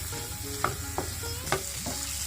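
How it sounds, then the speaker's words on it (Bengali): Beef kala bhuna with chui jhal spice stir-frying in a pan makes a steady loud sizzle, broken by repeated scraping strokes of a spatula about twice a second, close up, with no voices. "চুই ঝালটাকেও আমি কয়েকবার ভালো করে ভুনে নেব"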